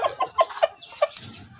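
Hens in a backyard flock, including Silver Cochin birds, give a quick run of close, distinct clucks in an irregular rhythm lasting a second or two.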